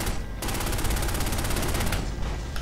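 Rapid, dense automatic gunfire in the video game Ludo, a continuous rattling stream of shots that runs loud and close for nearly the whole moment, with no speech over it.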